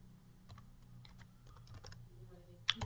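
PHP code typed on a computer keyboard, with quiet, irregular key clicks in short bursts at close range over a low background hum, ending on a sharper louder keystroke.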